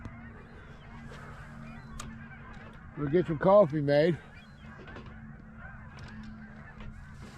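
Waterfowl at a lakeside campsite give a brief burst of loud, honking quacks close by, about a second long, in the middle of a quiet outdoor stretch. Someone talks quietly before it.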